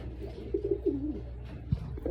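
A pigeon coos in short repeated pulses at a backyard loft where the birds are kept and fed, moderately close over low ambient noise, with a brief soft thump near the end.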